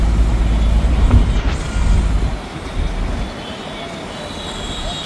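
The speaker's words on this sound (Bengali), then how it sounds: "ট্রেন" A train passes through busy Dhaka traffic with a loud, low rumble that is heavy for the first couple of seconds and then eases to a softer, steady roar.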